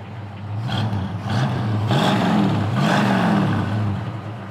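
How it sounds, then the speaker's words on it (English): A 1965 Ford Mustang coupe's V8 engine burbles through dual exhaust, its deep note rising and falling as the throttle is blipped a couple of times. "Dual exhaust sounds nice too."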